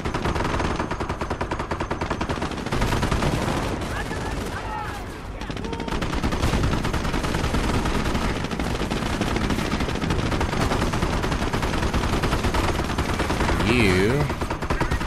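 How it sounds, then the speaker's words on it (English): A Company of Heroes squad lets loose machine gun fire, sustained rapid bursts crackling almost nonstop alongside other gunfire and battle noise, loud and dense throughout, with a brief lull near the middle. "Sergeant, get an MG on the roof of this tin can."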